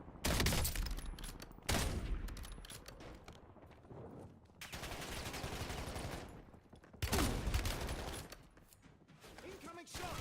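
Rapid machine-gun fusillades and gunshots ring out while under fire in the Black Ops 2 video game. Loud bursts alternate with quieter stretches, and speech is heard between volleys.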